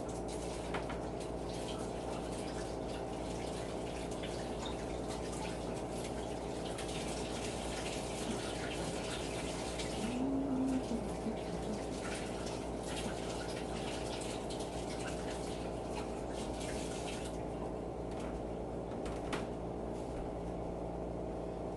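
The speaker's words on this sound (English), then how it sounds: "Hang on one second, let me wash my hands." Tap water runs steadily into a sink during a handwash in a home kitchen, a continuous gushing flow with slight shifts in tone as hands move under the stream.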